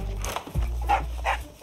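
A dog barks indoors in a house, a few short close barks and yips over a low steady background hum.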